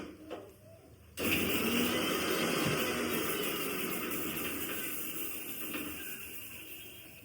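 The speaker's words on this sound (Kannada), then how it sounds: "ಸೊ ಇವಾಗ ಅದನ್ನು ಮಿಕ್ಸಿಗೆ ಹಾಕಿ ಸುಮ್ಮನೆ ಒಂದು 2 ರೌಂಡ್ ಹೊಡಿಸ್ತೀನಿ" A kitchen mixer grinder whirs loudly and steadily, pulsing briefly to grind dried chillies into coarse flakes. It starts abruptly after a short quiet stretch and runs on continuously, close by.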